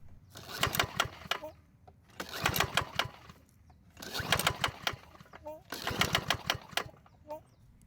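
A lawn mower engine that smokes a lot is cranked with its recoil starter rope during a compression test, four rapid chugging pulls in a row, each a burst of clattering turnover, close and fairly loud.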